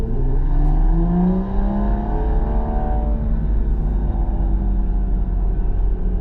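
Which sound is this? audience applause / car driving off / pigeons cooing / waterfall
car driving off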